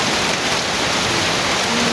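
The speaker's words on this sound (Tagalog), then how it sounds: "inabutan kami ng malakas ng ulan" Heavy rain falls outdoors during a Filipino boodle fight cookout, a loud, dense and constant hiss of downpour with no voices over it.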